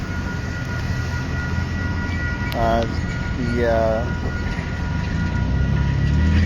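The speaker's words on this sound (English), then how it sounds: "We're just waiting for this one metro to come through." A Metra commuter train passes through the Chicago area with a steady rail rumble, and two short horn blasts sound partway through over the ongoing roar. A voice speaks briefly.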